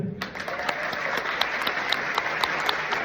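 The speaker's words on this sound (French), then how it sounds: "Vous pouvez vous applaudir." Audience clapping for themselves, a short, fairly faint burst of many hands with sharp individual claps over a soft wash of applause.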